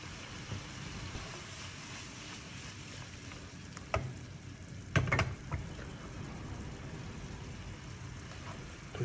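Chicken pieces sizzle in a pan while white wine cooks off, a quiet continuous frying hiss with a few sharper clinks and stirring knocks near the middle, no one talking.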